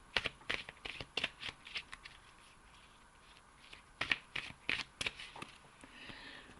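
Oracle cards shuffled nearby, crisp flicking and tapping in quick irregular bursts with brief pauses, set against a faint steady hiss.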